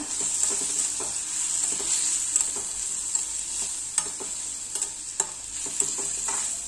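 A spoon stirs prawn pickle with masala, salt and red chilli in a sizzling pan, a steady frying hiss broken by regular soft knocks and scrapes against the pan.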